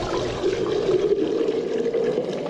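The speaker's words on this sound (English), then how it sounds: "I'm gonna pour the black tea." Room-temperature black tea is poured for homemade kombucha: a steady, continuous gush of liquid, close and fairly loud, flowing unbroken for a few seconds with no talking.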